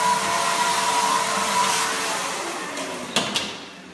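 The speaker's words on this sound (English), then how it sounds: "We take this out and we vacuum underneath." A vacuum cleaner runs steadily while cleaning underneath a removed part in a kitchen, a continuous broadband whir with a faint whine, easing off toward the end where a couple of sharp knocks sound.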